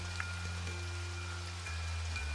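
Steady rain falls as an audio drama sound effect, a continuous close hiss of drops with a low rumble beneath and no voices.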